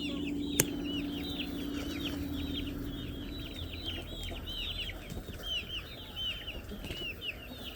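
Chickens cluck and chatter steadily beside a coop outdoors, a dense overlapping flock of repeated calls running throughout at moderate loudness, with one brief sharp knock near the start.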